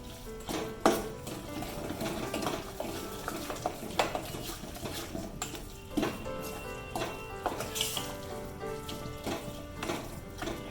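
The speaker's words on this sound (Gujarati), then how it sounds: "હવે એને સારી રીતે બધું મિક્સ કરી લઈશું." Adadiya pak, a jaggery-sweetened winter sweet, being stirred and mixed in a pan, with steady scraping and repeated sharp clinks of a spoon against metal, close and moderately loud.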